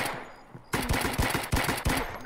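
Gunfire in Escape From Tarkov: a quiet lead-in, then a close, loud run of rapid automatic shots in several quick bursts.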